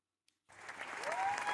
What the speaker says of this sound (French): À la fin d'un spectacle, le public applaudit l'artiste.